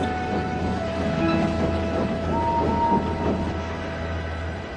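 A steam train arriving rumbles steadily nearby with a low continuous drone, faint clanking and a thin squeal of wheels, no voices.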